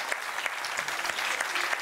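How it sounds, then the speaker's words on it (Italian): An audience applauds at a concert of Corsican singing groups, steady dense clapping throughout, close and fairly loud, with no voices over it. "Vous les applaudir s'il vous plaît"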